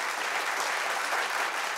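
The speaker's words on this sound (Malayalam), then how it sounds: "നല്ലൊരു കൈയടി കൊടുക്കാം." Audience applause at a televised comedy stage show, a steady dense wash of clapping from a crowd that fills the whole stretch without a break, loud and close, with no speech.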